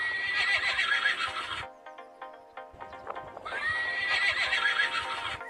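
A toy horse plays a loud electronic neigh followed by clip-clop hoofbeats, then neighs again. The whinnies are bright and sustained, with a quieter stretch of trotting between them and no talk.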